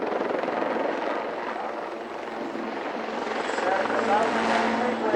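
A helicopter's rotor thrum and engine whine fill the air steadily at the 1989 Ulster Airshow in Newtownards, close and loud, swelling slightly toward the end.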